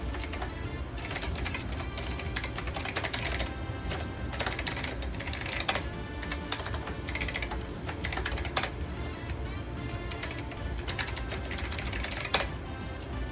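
Typing on a computer keyboard connected to a Linux system, a dense, continuous clatter of keystrokes close up, with a few louder key strikes scattered throughout.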